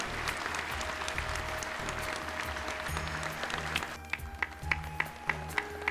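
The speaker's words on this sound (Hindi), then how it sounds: "जोरदार तालियां डॉक्टर वेद प्रताप वैदिक जी के लिए।" A satsang audience claps loudly and steadily in a large hall, the applause thinning toward the end into scattered, more distinct individual claps.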